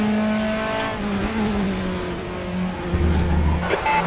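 Race cars in the RaceRoom sim at Portimao hold a steady engine drone that shifts in pitch, with a brief tire squeal and a short burst of revving near the end, all without talk.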